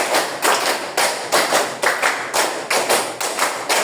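A classroom of students claps a patterned rhythm in unison, sharp group claps repeating in even bursts across several seconds with no talking.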